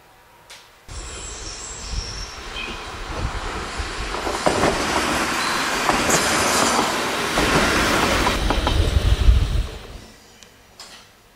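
A DSB train pulls out of Langå station in May 2024: a steady, building rumble with rhythmic clickety-clack of wheels over rail joints and faint squeal, running about nine seconds before fading away, no voices.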